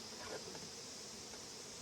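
Honeybees drone steadily around an open hive during an inspection while the frames are being upgraded from eight to ten, a close, even buzz that fills the whole moment.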